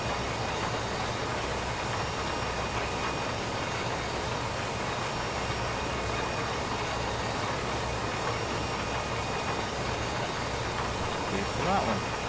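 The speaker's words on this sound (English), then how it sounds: "At least the wheel loader is still running alright at the minute." A wheel loader engine in the Farming Simulator 15 game drones steadily throughout, a constant low rumble with faint talk mixed in.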